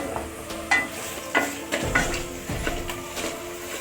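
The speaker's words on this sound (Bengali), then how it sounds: "এটা দিয়ে একটু আমি ভালোভাবে নাড়বো" A spoon stirs a thick paste of cashew, poppy seed and fennel in a hot pan for doi katla, scraping with a steady sizzle and several louder knocks against the metal, close by and without talk.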